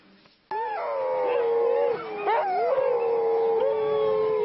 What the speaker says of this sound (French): Les chiens hurlent en meute, pris de frénésie incorrigible jusqu'à cet instant qui les libère